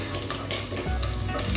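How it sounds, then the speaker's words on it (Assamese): Prawns frying until crisp and reddish in a pan for chicken prawn fried rice, a steady close sizzle with stirring and faint utensil scrapes throughout. "একদম প্ৰনখিনি ৰঙচুৱাকৈ ভাজি ল'লোঁ, একদম মচমচীয়াকৈ ভাজি লৈছোঁ।"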